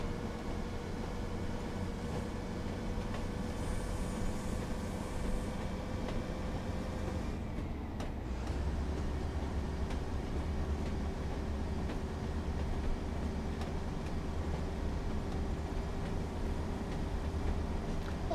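Class 142 Pacer diesel railcar in Train Sim World 5 on the West Cornwall line toward St Erth, a steady low engine drone and rail rumble, with a brief dip in the middle before the engine note settles slightly lower and continues.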